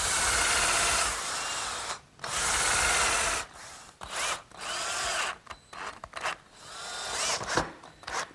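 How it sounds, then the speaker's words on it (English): A power drill pre-drills pilot holes for 1 1/4 inch screws in glued wooden half-lap joints of a workshop hutch, running in several loud close bursts of whining, grinding spin separated by short pauses and clicks. "A little bit of glue on each half-lap, and I'll pre-drill for 1 1/4 inch screws."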